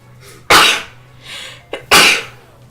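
Two sharp human sneezes close to the microphone, each with a soft inhale before it, about a second and a half apart.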